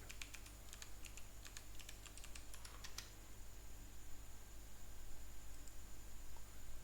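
Fingers tap a number into a computer keyboard, a quick, uneven burst of close, crisp key clicks for about three seconds, then only faint room hiss.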